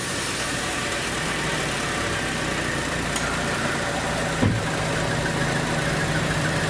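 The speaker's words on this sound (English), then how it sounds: "Go ahead and start this thing up." A warmed-up 2014 Chevy Cruze with misfire and traction control problems runs at a steady idle, a continuous close engine drone with one brief bump partway through.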